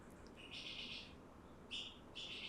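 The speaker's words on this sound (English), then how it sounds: "And the birds chirping." Birds chirp in a couple of bright, fast warbling bursts over a soft, steady outdoor hush, with no one talking.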